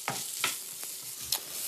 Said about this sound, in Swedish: Vi ska bara fräsa det här tills löken har mjuknat